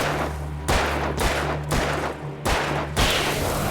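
Gunshots in the video game Alan Wake, five or six loud booming blasts at a steady rhythm over a constant game hum.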